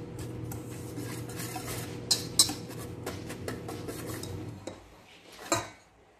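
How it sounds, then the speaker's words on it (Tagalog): Chocolate cake batter being stirred in a bowl with a utensil, a steady scraping and clinking against the sides, with a few sharper taps near the end, close and fairly quiet with no talking. "Ayan, haluin natin sila."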